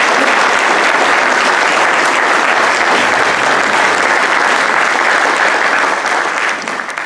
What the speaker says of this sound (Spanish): Con fuertes aplausos recibamos a Antonio Escudero Caldas.